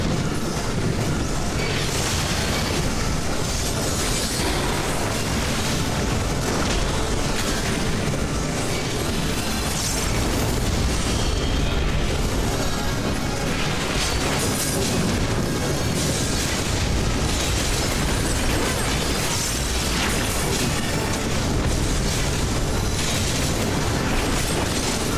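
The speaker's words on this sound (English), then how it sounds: "I think they're gonna explode." Explosions and a dense battle din from the video game Final Fantasy XIV form a loud, continuous roar of booms and crashes with no quiet gaps, and nobody talks over it.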